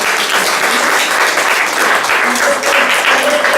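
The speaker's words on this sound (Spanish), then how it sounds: "Dale un fuerte aplauso a nuestro Señor." Congregation applauding during a church service, a loud, dense and continuous burst of clapping filling the room, with faint voices blended into the wash.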